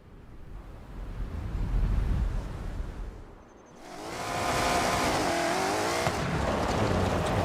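A BMW race car in the racing game Forza Horizon, its engine droning and then surging into a loud, sustained revving roar as it accelerates, heard close with no voices over it.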